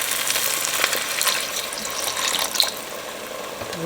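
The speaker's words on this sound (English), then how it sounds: "Now we're going to pour in some of our beef broth." Beef broth pours steadily into a pan with a continuous splashing hiss, close and fairly loud throughout.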